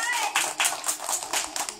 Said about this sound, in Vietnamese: mấy thiếu nhi vỗ tay nhiệt tình đấy nhờ